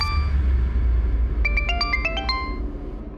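A phone ringtone for an incoming call plays a short rising-and-falling melodic sequence of bright electronic tones, loud and clear over a steady low hum, with no talk.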